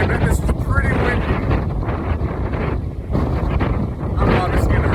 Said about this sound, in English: And I bet this is pretty windy.